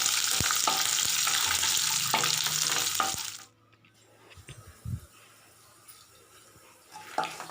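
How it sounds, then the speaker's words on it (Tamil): Garlic sautéing in hot oil in a pan for a Tamil sundakkai vatha kuzhambu, a loud close sizzle for three seconds that drops to faint crackling with a few stirring clinks. "பூண்டை சேர்த்து நல்லா வதக்குங்க"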